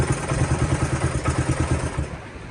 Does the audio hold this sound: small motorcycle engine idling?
yes